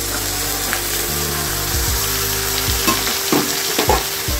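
Washed rice frying with tempering spices in an oily pan for khichuri, a steady sizzle broken by scraping and stirring strokes from the second half onward, close and continuous with no talk.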